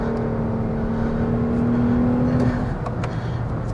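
The exhaust of a Toyota Avalon TRD gives a steady, close drone heard from inside the car as it cruises, with a low hum that eases off near the end.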